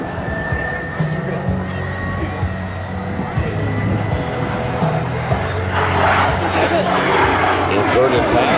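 Airplane engine roaring through an inverted pass at the 2012 Joint Base Lewis-McChord Air Expo, a steady loud drone under an announcer's voice, swelling toward the end.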